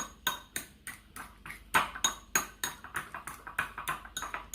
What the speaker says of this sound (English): I'm gonna go back in and just mix everything together.